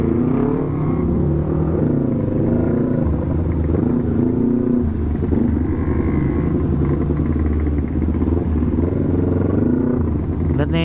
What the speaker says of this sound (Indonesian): Macetnya itu di mana-mana boy.